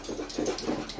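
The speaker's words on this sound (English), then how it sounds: "you can now hear Lawrence barking in the background" A toy cavapoo puppy yips and pants close by, with short bursts of barking and breathy panting repeating through the second, no voices over it.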